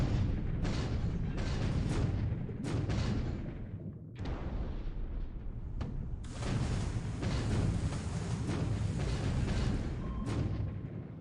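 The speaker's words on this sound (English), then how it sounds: "we're firing depth charges" Repeated heavy booms and bursts from naval depth charges in the World War II strategy game War in the Pacific, Admiral Edition, several loud dull detonations in close succession over a continuous low rumble.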